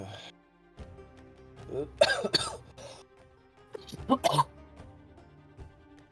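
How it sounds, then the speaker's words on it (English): A person gives a few harsh coughs and throat clears in two bursts with quiet pauses between, close and fairly loud, with some voice mixed in. "Now your coughing is in character."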